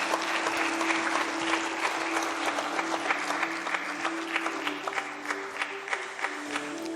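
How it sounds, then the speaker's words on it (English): Sustained applause from a large conference audience at an oral health keynote event, dense and steady clapping filling the room with a faint background hum, continuing evenly throughout. "let's not stop this applause"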